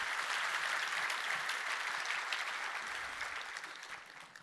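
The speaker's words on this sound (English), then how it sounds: "Can we give one more quick round of applause for Mohit for sharing Jet.com story?" Applause from the HashiConf 2017 opening keynote audience fills the hall as a sustained, dense round of clapping. It stays steady throughout and fades slightly toward the end, with no voices over it.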